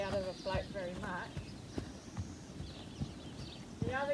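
A horse's hooves clop in irregular steps as it moves on and off the ramp of a trailer float, close and fairly soft, under continuous talk from a person nearby.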